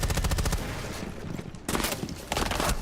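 Rapid automatic gunfire in a Rainbow Six Siege esports match, loud close bursts of shots with a short lull in the middle, then two more volleys.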